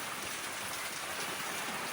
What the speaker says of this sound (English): it's really blowing and raining